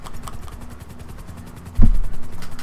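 A helicopter in the GTA V video game flies with steady rapid rotor chopping, a loud pulsing thump repeating throughout, and a heavier low burst near the end.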